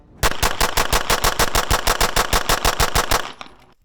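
Rapid string of about twenty loud pistol shots from a UL carry handgun at a shooting range, fired in quick even succession for three seconds before stopping, close and sharp with no talking.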